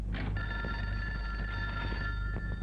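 A telephone bell rings steadily with a sustained electronic trill over a low background hum, moderately loud and unaccompanied by talk.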